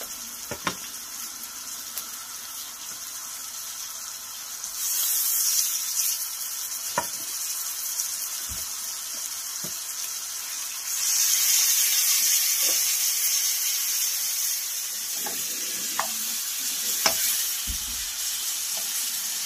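Spice-marinated chicken for a korma frying in a pan over low heat, a continuous close sizzle that swells twice in loudness, punctuated by scattered clicks and taps of stirring.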